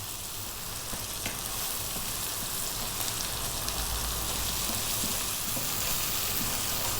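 Red curry paste sizzles and fries steadily in a hot pan while being stirred for a Thai seafood curry, a dense, even crackle throughout with no talking.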